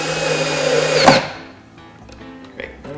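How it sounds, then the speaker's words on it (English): A power drill whirs steadily for about a second while building a wooden planter box, then spins down and stops, leaving faint scattered clicks and handling noises. "make sure that your drill is going the way you want it to"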